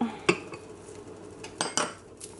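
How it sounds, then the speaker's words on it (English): A metal utensil stirs melted butter, chili powder and maple syrup in a bowl, giving several sharp clinks and scrapes against the dish, spaced irregularly and close up, with no talking. "mix it real good."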